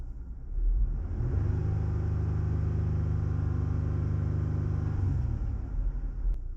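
A Jeep Gladiator engine fitted with an S&B cold air intake revs quickly to 3,000 RPM and holds there, a loud, steady, close droning rumble lasting several seconds before easing off.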